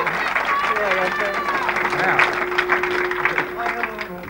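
Audience applause at a 1969 national all star tenpin bowling final, steady crowd clapping running under a voice talking, with a sustained tone and scattered arena noise in the background.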